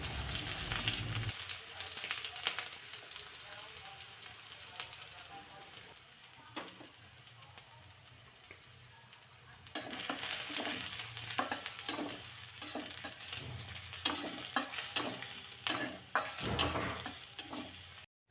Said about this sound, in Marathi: तेल चांगलं तापल्यानंतर सुरुवातीला मी इथे चिरलेला कांदा घालते